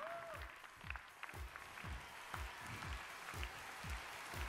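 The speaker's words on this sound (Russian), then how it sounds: "Бурные аплодисменты" Enthusiastic applause from a talent show grand final audience, dense clapping steady throughout, with rhythmic deep booming beats from stage music pulsing beneath it.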